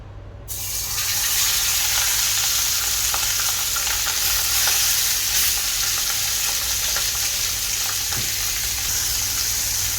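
Pomfret fish is shallow-fried in coconut oil, and a loud, steady sizzle bursts up as the fish goes into the pan, then holds as a continuous close crackling hiss with occasional spits and pops and no talking.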